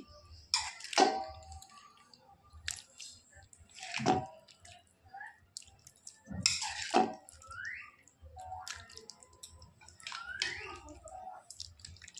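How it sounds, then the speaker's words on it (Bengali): Vegetable curry served into a bowl, with three distinct ladle knocks and wet scraping thuds at a slow pace, set against faint background noise and no speech. "এবার তরকারিটা এই গামলায় বেড়ে নেব।"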